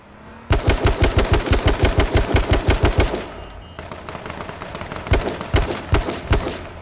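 Rapid automatic gunfire in the video game H1Z1 crackles loud and close. A steady burst of evenly spaced shots is followed by slower, more scattered shots, with no voices over it.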